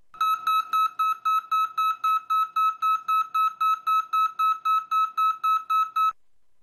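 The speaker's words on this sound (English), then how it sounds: "The brake monitor alarm on the rear trailer will continue to beep" Brake monitor alarm on the rear trailer of a truck beeps in a steady, evenly spaced series of about nineteen loud electronic tones, each short and bright, heard alone with no talk.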